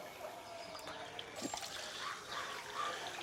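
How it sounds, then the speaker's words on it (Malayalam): Water falling into a garden pond in a yard, a soft continuous trickle and splash with occasional small drips, fairly faint and steady. "കണ്ടോ പോണ്ടുണ്ട്, വെള്ളം ഇപ്പോഴും വീഴുന്നുണ്ട്"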